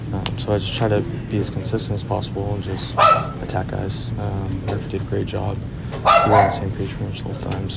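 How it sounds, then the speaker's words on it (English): A pet dog barks in a home while someone talks about baseball pitching, with a few short yips and barks breaking in over his steady speech. "I don't know if you guys can hear, but my dog's here barking."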